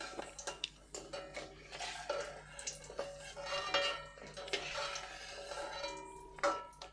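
Fried flattened-rice (chira) pakoras are lifted out of a pan in a home kitchen, with repeated metal scraping and clinking of a spatula against the pan and scattered soft taps, close and moderately loud, no talking.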